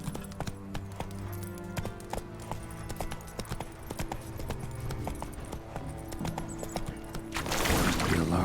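Rapid rhythmic hoofbeats of a galloping horse in Witcher 3 run steadily throughout, close and clear, swelling into a louder rush of movement at the end.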